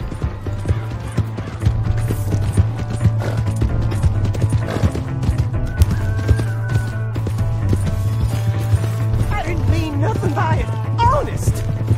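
Horse hooves clop rapidly in a galloping rhythm in Red Dead Redemption 2, steady and close, with engine-like droning, clattering and shouting voices over the top.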